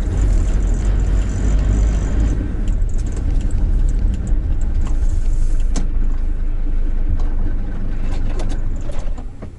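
A vehicle rolls in slowly and mounts a sidewalk to park, a close, steady low engine rumble with a brief mechanical clunk midway before the sound eases off at the end.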